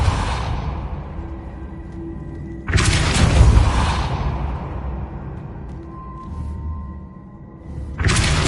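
Descendo and Depulso spells go off in Hogwarts Legacy, with loud booming bursts that each carry a broad whooshing rumble, separated by quieter stretches of background ambience.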